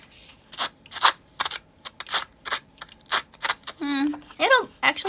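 Repeated close scissor snips through paper in an uneven rhythm, followed by a brief burst of speech near the end.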